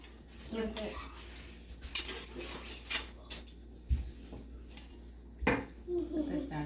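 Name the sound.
mixing flour batter in a bowl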